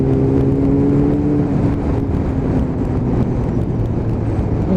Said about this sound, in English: Oh god, the wind's just picked up as well. I'm getting knocked about here.